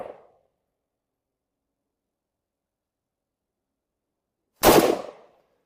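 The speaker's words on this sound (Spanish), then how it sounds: "vemos si al menos logramos disparar algunos tiros" A single sharp, loud gunshot from a Zastava M76 rifle rings out after a long silence and trails off in a short decaying echo.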